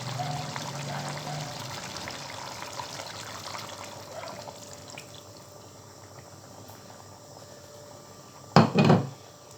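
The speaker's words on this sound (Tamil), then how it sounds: "இந்த தேங்காய் பாலை வந்து நான் இதோட சேர்த்துக்கிறேன்." Coconut milk poured into a cauliflower fish kurma in a pan, a steady soft liquid pour running for several seconds at low level, ending with a brief louder clatter near the close.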